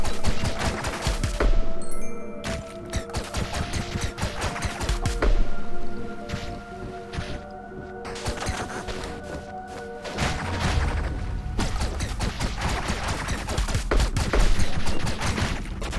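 Owlboy combat with enemies being shot: rapid, continuous stream of small game gunshots and thuds over looping background music, steady and fairly loud throughout.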